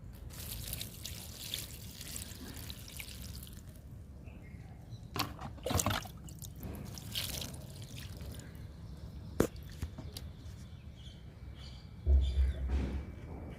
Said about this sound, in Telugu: ఈ మొక్కకు కూడా ఇస్తున్నాను లిక్విడ్